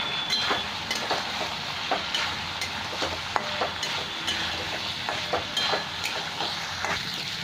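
Potatoes and pointed gourd sizzling in hot spiced oil in a pan, a steady crackling fry broken by repeated scraping stirs, close and moderately loud.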